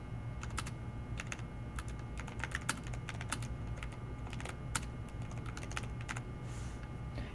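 Keyboard keys tapped on a computer keyboard while entering script code, irregular clusters of crisp clicks over a steady low background hum, no voices.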